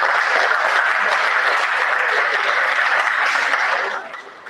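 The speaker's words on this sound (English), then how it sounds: "Please another round of applause for Prof." An audience at a distinguished personality lecture gives the professor a steady round of dense, even clapping for about four seconds before it fades away.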